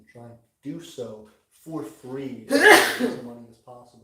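A single sharp sneeze bursts out in the middle of a man's steady speech, loud and close, with talking resuming right after.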